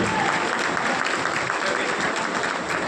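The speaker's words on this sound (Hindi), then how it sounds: "तो मैं उनसे सबसे निवेदन जोरदार ताली बजाएं।" Sustained applause from an audience at an award ceremony, dense and steady clapping filling the whole stretch at moderate level with no pauses.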